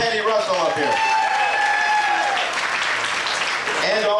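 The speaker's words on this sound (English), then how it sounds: "Let's get a round of applause for Patty Russell up here." A crowd at a Flash Dash race start applauds loudly for Patty Russell, with continuous clapping mixed with cheering voices and a few whistle-like calls.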